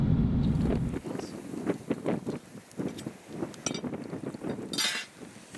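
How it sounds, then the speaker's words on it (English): Strong outdoor wind buffets the microphone in a loud low rumble for the first second. Gusty rushing and rattling follows and rises and falls, with scattered knocks and a brief hiss near the end. "Oh, that wind is brutal."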